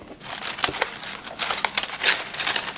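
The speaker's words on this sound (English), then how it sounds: "You guys don't need to hear the foil" Aluminium foil crinkling and crumpling up close around an oven-baked turkey, loud rustling bursts that swell and fade in uneven waves, with no voices.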